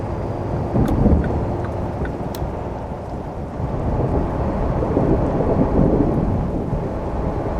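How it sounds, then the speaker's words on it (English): A thunderstorm rolls in American Truck Simulator, with heavy rain pouring steadily and low thunder rumbling throughout, loud and continuous with no talking. "This storm is getting out of hand here"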